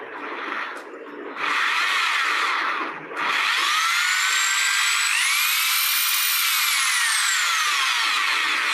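A Bosch GSB 500 RE power drill whirs steadily at close range, briefly pausing, then revving up with its pitch rising and falling as the speed changes.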